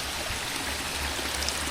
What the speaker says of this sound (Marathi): हे बघा हे जे झऱ्याचं पाणी येतं आहे ना